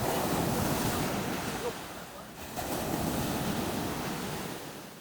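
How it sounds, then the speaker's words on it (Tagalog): Surf breaking on a beach at Baganga, a steady broad wash of rolling waves with a brief lull midway, heard alone with some wind buffeting the microphone. "Nindot sa mata ang balod ug nindot sa dunggan ang tingog."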